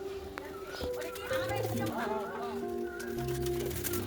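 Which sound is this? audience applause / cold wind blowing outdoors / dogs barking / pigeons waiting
pigeons waiting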